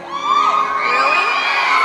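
A concert crowd at a show in Berkeley screams and whoops continuously, loud and dense, with high shrill voices rising and falling throughout.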